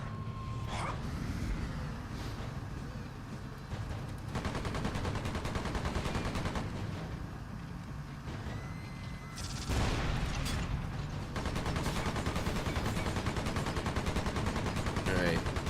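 Heavy tank cannon and machine-gun fire in EDF: Insect Armageddon, a dense continuous rattle of shots under a low rumbling engine, with loud bursts and booms near the middle, while a voice talks faintly underneath.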